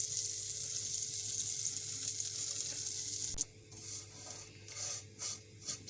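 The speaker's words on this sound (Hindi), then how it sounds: "सेवइयाँ को भी हमने अच्छा सा फ्राई कर लेना है।" Thin broken vermicelli (sevaiyan) fries in a pan for sheer khurma, giving a loud, steady hiss and crackle, then quieter, uneven sizzling with soft scraping strokes.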